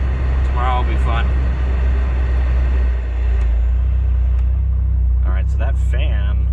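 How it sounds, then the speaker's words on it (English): Exhaust of a 1980s Chevrolet Nova (Nugget) project car rumbling steadily at idle, a loud low drone that runs the whole time, with someone talking over it at the start and again near the end. "There's the exhaust."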